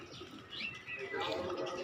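Pigeons coo softly at a distance, with faint chirps over a quiet background.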